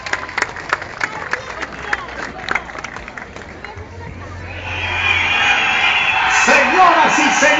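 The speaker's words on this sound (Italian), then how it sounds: "Un grosso applauso per Sabrina e Salvo" A live audience claps and cheers for performers Sabrina and Salvo at a stage show, the crowd noise swelling to loud sustained applause with whoops after a stretch of announcer talk.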